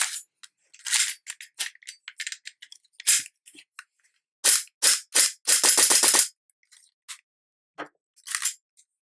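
An airsoft Glock pistol fitted with a UAC steel valve knocker fires in sharp, close snaps, first scattered single shots, then a quick rapid burst, with a few more cracks afterward.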